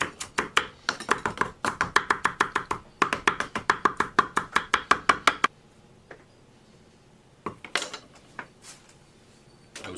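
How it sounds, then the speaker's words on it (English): A chef's knife chops fresh cilantro on a cutting board in a fast, steady run of crisp close knocks lasting several seconds, then a pause and a few scattered taps as the herbs are moved. "Do a chiffonade on your cilantro."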